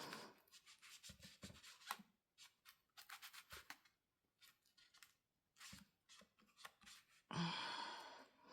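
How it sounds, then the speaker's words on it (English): Scissors snip holes in paper for journal tags in a quiet crafting session: a string of short, close, crisp cuts in uneven bursts with brief pauses, ending in a longer rustling scrape. "And then I'm going to cut the holes for the tags and for the inserts."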